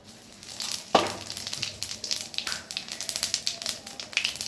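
Cumin seeds dropped into hot mustard oil in a wok, a sudden burst followed by rapid crackling and popping spatter, close and moderately loud, with no talk.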